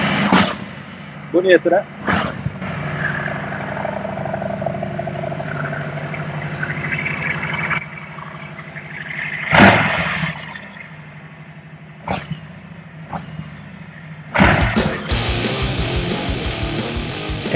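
A Harley-Davidson Road King motorcycle engine fires up with sharp bursts, then settles into a loud, rumbling idle, with brief revs and someone speaking briefly.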